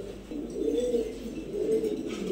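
Pigeons of jumbo-quality breed coo in a low, continuous rolling murmur, two long swelling coos running back to back at moderate distance with no talking.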